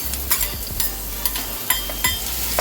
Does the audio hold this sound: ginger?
yes